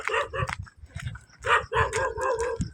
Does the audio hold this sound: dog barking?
yes